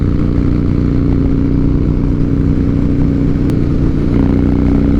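Harley-Davidson Night Train motorcycle engine running with a slight misfire, a loud, steady close-up rumble with an uneven, stuttering pulse throughout.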